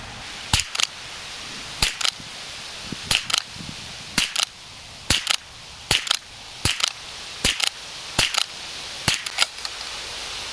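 American-made 40-grain hollow-point rimfire rounds fired from a rifle: roughly a dozen sharp, loud cracks at a steady pace, each followed by a faint echo, with no voices between shots.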